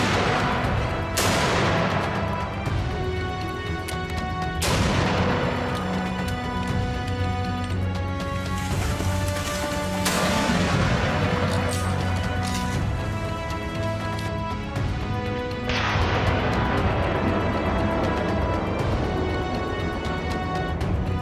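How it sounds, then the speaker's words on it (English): Rifle shots ring out during a wild boar hunt, a handful of sharp cracks spaced several seconds apart, each trailing into a long echoing decay over steady background noise. "We shot continuously and killed several wild boars"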